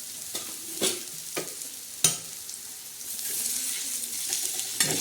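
Coriander dumplings made with horse gram and pearl millet flour shallow-fry in oil, a continuous quiet sizzle broken by several sharp scraping strokes of a spatula against the pan.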